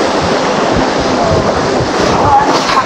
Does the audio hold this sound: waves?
yes